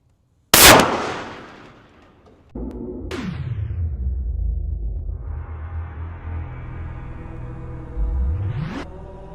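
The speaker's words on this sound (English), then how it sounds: "Moving up to the 50 cal. Firing." A .50 caliber rifle fires once at a target, a loud, close, sharp blast that decays over about two seconds. It is followed by a sustained whooshing, rumbling rush that swells and then cuts off.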